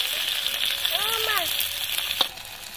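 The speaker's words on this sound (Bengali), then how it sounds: "ফোড়নের জন্য দিয়ে দিচ্ছি গোটা জিরে, আদার কুচি, পেঁয়াজের কুচি," Whole cumin, chopped ginger and chopped onion sizzle in hot oil for a tempering, a steady bright crackling hiss close by, with a faint brief tonal chirp partway through.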